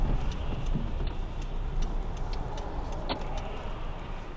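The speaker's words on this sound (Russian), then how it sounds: "Да, правый поворотник включай." A car's right turn signal indicator ticks at a regular pace, faint inside the cabin under a steady low road and engine hum.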